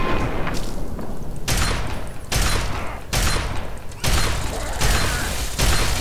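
A shotgun in Fallout 3 fires a series of heavy booming blasts, about six evenly spaced loud shots, each with a short decaying tail, under steady game background noise.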